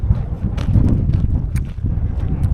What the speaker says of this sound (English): the wind's blowing in the wrong direction